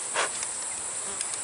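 Honeybees buzz steadily around a hive box in an Indiana apiery, a dense close insect drone with a brief louder swell as one passes near.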